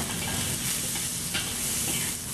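Onions and ginger stir-frying in hot oil for a beef and snow pea stir fry, a steady close sizzle with scraping stirs, no talking.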